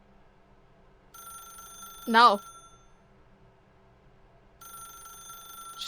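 A telephone rings in The Stanley Parable video game, with a repeating electronic ring sounding in two bursts separated by a pause. A loud voice briefly cuts in between the rings.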